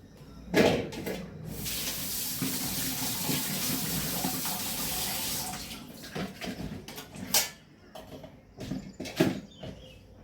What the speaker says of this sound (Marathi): तर ते वांगे आपण स्वच्छ धुवून घेऊया